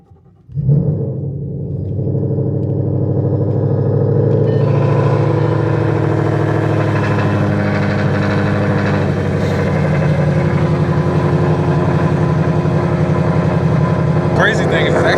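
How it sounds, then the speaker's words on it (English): An FBO E85 Mustang cranks briefly and then catches, settling into a loud, steady, rumbling idle that runs close and continuous after start-up, with a voice talking over it. "Trying to start this fucking car up."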